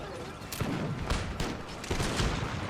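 Massed regimental musket volleys crackle in a line-battle game, several ragged bursts rolling out at mid distance over a constant din of battle.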